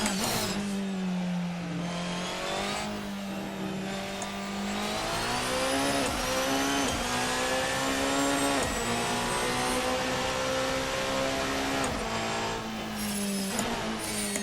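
Protech P91 hybrid prototype race car in the Assetto Corsa sim accelerating hard through curves, a loud continuous engine drone rising and falling in pitch with gear changes, close and steady with no talk.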